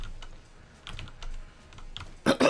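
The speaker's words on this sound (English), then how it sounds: "I apologize if my mouse and keyboard are somewhat loud" Computer keyboard and mouse in use during a Nuclear Throne game session, with scattered clicks and key taps, then a louder burst of rapid typing near the end, close and alone.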